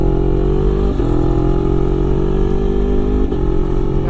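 A bored-up Yamaha Aerox scooter engine with a 71 mm piston and 61.7 mm stroke revs loudly and close, holding a high steady drone with two brief dips in pitch as the throttle shifts.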